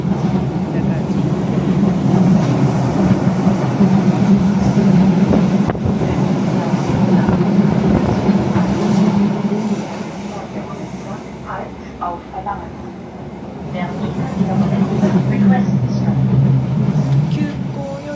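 A Bernina regional train rolls along, its steady rumble and wheel noise coming through a half-open window, mixed with wind buffeting. The noise dips briefly midway before swelling again.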